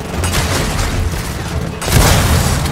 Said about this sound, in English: that is one explosion!